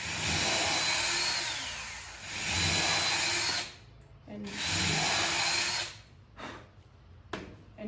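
A power drill whirring in repeated bursts while boring holes in a wooden pedestal table base, close and loud, with a few short clicks and pauses between runs.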